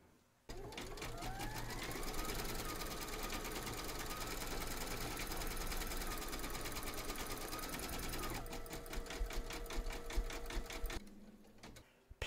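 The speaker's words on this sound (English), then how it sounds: "stitch round number 5" An embroidery machine satin-stitches around a teddy's ears in purple thread, running as a fast, continuous mechanical chatter with a rising whine, then changes pace near the end before stopping.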